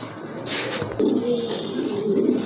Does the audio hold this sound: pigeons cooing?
yes